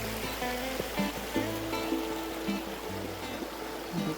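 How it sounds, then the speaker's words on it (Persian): Mountain waterfall in the Canadian Rockies pouring into a river, a steady faint rushing of water running throughout, with tonal background sounds over it and no voices. "همین آبشار است که میشه رودخونه و میریزه"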